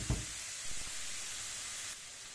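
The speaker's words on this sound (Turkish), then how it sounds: "Şöyle kavurmaya başladım." Soft, steady sizzling hiss of leeks sautéing in a pan, with a light clink of a utensil at the start.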